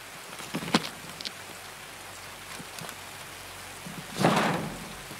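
Steady hiss of heavy rain in Escape from Tarkov with scattered louder drops and a brief rumbling swell near the end, like distant thunder.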